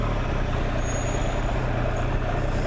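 A Triumph Daytona 765 Moto2 Limited Edition motorcycle ridden slowly, its engine giving a steady, even rumble under loud, continuous wind and road noise.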